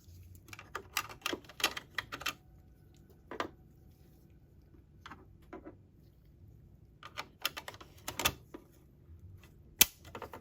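An Epson L1800 printer part, refitted after a printhead replacement, snaps into place with sharp plastic clicks, several scattered bursts close by over roughly ten quiet seconds and one crisp final click near the end, with no talking.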